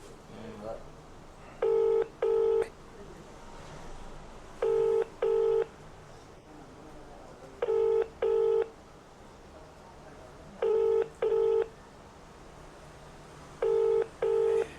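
Paired bursts of telephone keypad dialing tones repeat at steady intervals, about every three seconds, as a customer is called from an office, with faint background noise between the groups of beeps.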